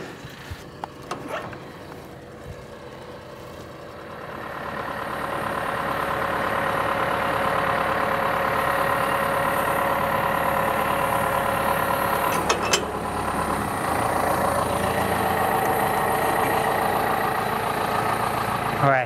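A farm tractor engine idles low in a food plot field, faint at first, then swelling into a louder, steady rumble that holds through to the end, with a few brief clanks along the way.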